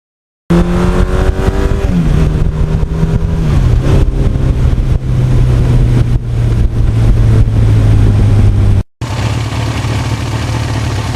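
A 1982 Suzuki GS1100E motorcycle fitted with a 1986 aftermarket exhaust rumbles steadily close by, its low engine drone holding and shifting pitch, with a brief cut near the end before the rumble resumes.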